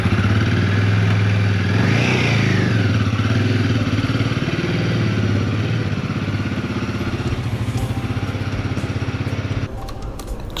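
A motorcycle engine runs steadily nearby for several seconds with a gritty, mid-pitched drone and faint rattling that swells briefly before easing back and falling quieter near the end.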